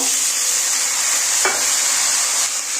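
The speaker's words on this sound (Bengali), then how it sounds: "এবার ভালো করে একটু ভেজে নেবে" Snake gourd frying with onions in a pan, stirred steadily: a continuous bright sizzle with a single brief scrape of the spatula partway through, close and fairly loud, with no voices.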